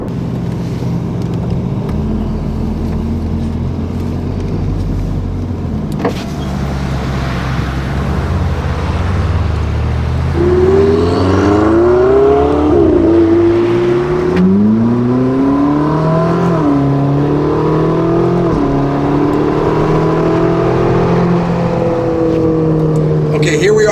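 A Ferrari 458 sports car with its V8 engine heard from inside while driving, a loud sustained drone that climbs and falls in pitch through several rising acceleration sweeps.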